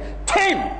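A voice imitates a sneeze in one short, sharp burst and then breaks off.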